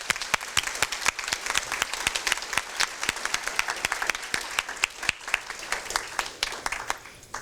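Steady, lively applause from an audience at a Kiwanis awards ceremony honoring students, with dense overlapping claps sustained for several seconds and tapering slightly at the end.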